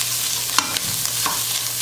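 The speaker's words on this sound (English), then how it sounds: "I first like to add my meat just a little bit to brown it up a little bit." Longaniza, a Dominican pork sausage, browning in a dry pan with no oil, a steady close sizzle broken by a few brief scrapes as it is stirred.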